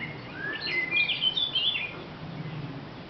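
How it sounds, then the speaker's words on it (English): A whitethroat calls from a sheltered spot beside an abandoned steam train repair workshop, giving a brief, fairly clear run of scratchy, high chirping notes over faint ambient hiss. "I think one of those birds that's calling is a whitethroat."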